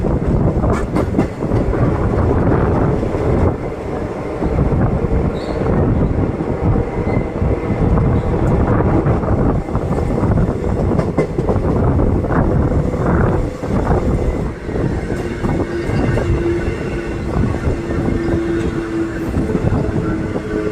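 Ernakulam Junction–Kannur Intercity train running at speed, a continuous loud rumble with rhythmic clickety-clack of wheels over rail joints and buffeting wind, steady throughout with no voices.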